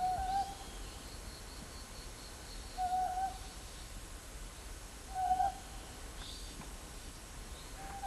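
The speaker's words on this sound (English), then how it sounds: "The distinctive whistle-like shriek of the mountain Scops owl is often heard resonating" A mountain scops owl gives short, whistle-like hoots at regular intervals of a few seconds, fairly distant, over a quiet night background.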